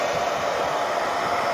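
Hair dryer blowing hot air onto silicone sealant on a van, a steady close whirring hiss that holds at constant loudness for the whole stretch before cutting off at the very end.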